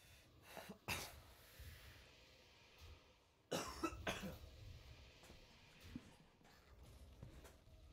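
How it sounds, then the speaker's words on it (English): Several harsh coughs come in short bursts, two clusters close together and then a fainter one later, over quiet background noise. "Still coughing up mucus and shit."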